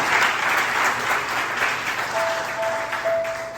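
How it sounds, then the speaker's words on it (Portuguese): A church congregation applauds after a sermon passage, a broad and steady burst of clapping throughout, with a faint sustained tone from a keyboard or organ entering partway through. "Você pode aplaudir o Senhor por essa palavra?"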